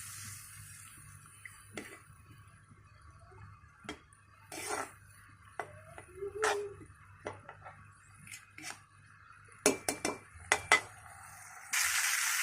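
Turmeric-laced spices sautéing in a pan, quiet sizzling broken by scattered stirring scrapes and clicks of a spoon, close and fairly faint.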